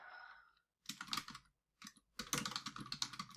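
Typing on a computer keyboard: quick bursts of close, crisp key clicks broken by short pauses, alone after a brief faint tone at the start.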